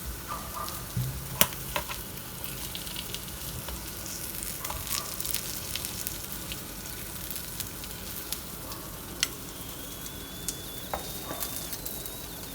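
Chicken for a home-style grilled chicken dish sizzles steadily in a pan, a dense, even crackle and hiss that fills the whole stretch with occasional sharper pops and no voices.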